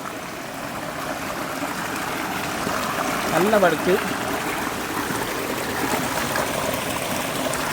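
A mountain stream near a remote waterfall in a gorge close to Chooralmala, Wayanad, Kerala flows in a steady, close rush of water throughout, with someone talking briefly over it partway through.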